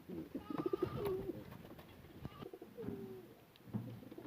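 Pigeons coo softly in a loft beside nesting birds sitting on eggs, several low throaty coos repeating at close range over faint background rustling.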